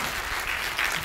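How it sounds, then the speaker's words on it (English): Audience applause at a brand finance conference, a dense steady wash of clapping filling the whole moment and swelling slightly near the end, no voices over it. "Please help me a round of applause."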